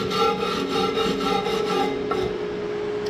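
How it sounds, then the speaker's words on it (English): A wire brush scrubs back and forth over a steel weld bead made with 6013 rod, a steady close rasping with rhythmic strokes for about two seconds before fading. "we're gonna take our wire brush, and we're gonna get a nice brush on this"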